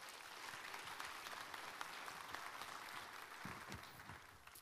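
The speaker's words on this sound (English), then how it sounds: "So let's give them all a round of applause." A community information meeting crowd claps for town council members, a dense wash of applause that sounds faint and distant, holding steady throughout.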